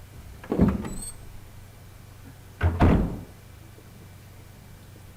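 A door being unlocked and opened in Resident Evil HD Remaster, with two separate mechanical clunks, a short latch rattle early on and a heavier, longer thud of the door swinging a couple of seconds later, over a low ambient hum.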